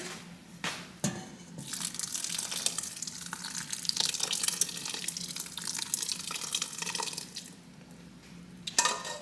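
Liquid pours steadily into a cooking pot while preparing an Easter meal, a continuous gushing, splashing stream lasting several seconds with a brief clatter near the end.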